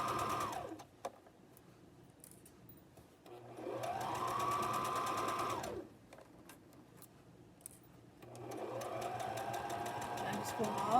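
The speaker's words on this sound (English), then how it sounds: "raise my needle, raise my presser foot, cut my threads" A home sewing machine stitches fabric in two long whirring runs separated by short pauses, with a voice speaking intermittently over the close mechanical hum.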